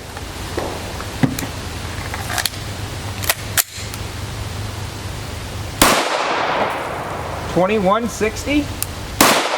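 Sharp pistol shots from an FN Five-seveN fitted with a 7-inch EFK Firedragon barrel, several loud isolated cracks spaced seconds apart outdoors, with a voice speaking between them.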